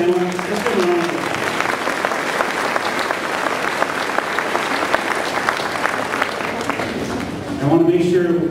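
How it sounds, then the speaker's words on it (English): An elementary school Grandparents Day crowd applauds in a gym or hall, a loud, even roar of many hands that runs for several seconds, with a voice speaking briefly at the start and again as it tapers off. "I want to just give a round of applause."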